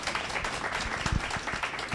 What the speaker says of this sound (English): please feel free to applaud